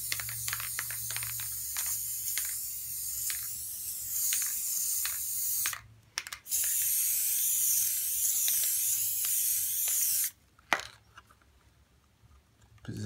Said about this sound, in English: Go ahead and spray this.